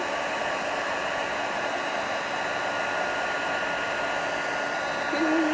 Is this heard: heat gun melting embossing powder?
yes